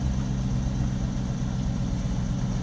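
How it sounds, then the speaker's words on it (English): A car engine idles after an electric gas pedal is replaced, giving a steady low rumble that holds even and close throughout with no voices. "the idle will slowly come right back down to about 600 RPM, or thereabouts."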